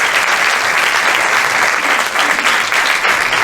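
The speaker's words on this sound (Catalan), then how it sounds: "Un aplaudiment para ella, sisplau." An audience at a film festival gala applauds, a dense, steady burst of clapping from many hands filling the room at full volume without a break.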